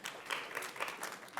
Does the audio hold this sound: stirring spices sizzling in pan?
no